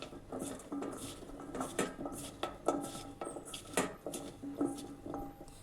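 A spoon works cut potatoes and cornflour together in a bowl for French fries, producing close, uneven clinks and scrapes against the bowl in a quick, irregular rhythm.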